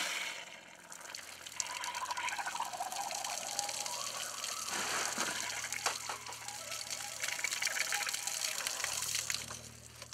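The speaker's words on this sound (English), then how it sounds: "As the tank fills up, more air is released from the system until the tank is full and the water emerges." Water rushes and gurgles into an outdoor hot water heater tank as it fills, a continuous close gush whose tone shifts midway as trapped air escapes, with no talking.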